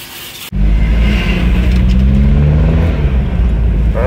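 A Mitsubishi Pajero drives along after a brief muffled lead-in, its engine and road rumble suddenly loud and close from inside the vehicle, holding a steady drone with a faint rise in pitch near the end.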